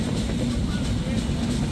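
The Padma Express train running in Bangladesh, a steady loud low rumble of the carriages rolling along the rails, continuous and close throughout.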